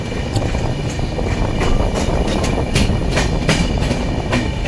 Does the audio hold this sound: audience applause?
no